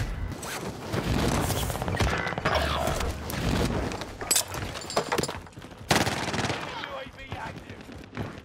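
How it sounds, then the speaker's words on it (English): Rapid automatic PPSh submachine gun fire from a teammate in an online shooter game rattles almost continuously in dense bursts, loud and close, with brief gaps and other game effects mixed in. "teammate's shooting me because"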